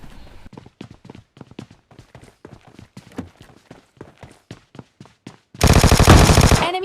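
In PUBG Lite, a long run of evenly spaced footsteps is followed by a sudden loud, sustained burst of automatic gunfire at the end. No one speaks.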